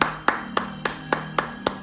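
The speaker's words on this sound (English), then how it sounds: "Everybody give T a round of applause." A small group clapping for someone, seven sparse, evenly spaced claps that sound more like a slow rhythmic handclap than full applause, over a low steady hum.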